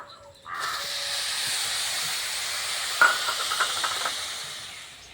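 Water poured into hot cooking raw mango and sugar in a pan for mango papad, a sudden steady loud hiss that starts abruptly and sizzles on without a break.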